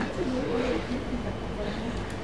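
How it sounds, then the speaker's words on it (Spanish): Pigeons coo softly and repeatedly beside a café table where two people sit, a low continuous murmur of ambient noise and faint voices running underneath the birdsong. "mientras se oyen arrullos de palomas"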